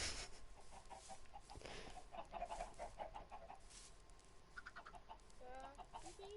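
Chickens in Minecraft give a run of short, repeated clucks over a steady background hum, with a few squawkier calls near the end and no voices.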